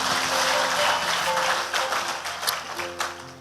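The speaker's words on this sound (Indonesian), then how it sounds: "Berikan tepuk tangan kita kepada Tuhan kita." A church congregation applauding during an evening revival service, steady clapping that thins toward the end with a few sharper individual claps and music tones underneath.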